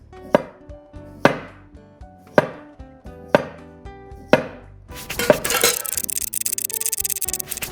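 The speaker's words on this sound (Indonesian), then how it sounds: "Kita potong dulu bulat-bulat gitu." A knife chops radish into round slices on a board, five or six crisp evenly spaced chops ringing slightly, then a fast scraping, rubbing flurry, all close and loud with no voices.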